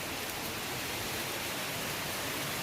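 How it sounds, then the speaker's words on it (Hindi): Rain showers falling over hills and farm fields make a steady, even broadband hiss close around, with no voices. "सब बारिश की जो बौछारें हैं ना, इनसे सब ढक रखा है।"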